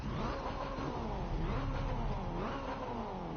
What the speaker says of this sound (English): Oh yeah, that car sounds good.